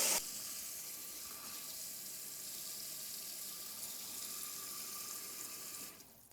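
A pot fills with liquid for a large batch of broth under a kitchen tap, a steady broadband rush of running water lasting about six seconds before cutting off abruptly.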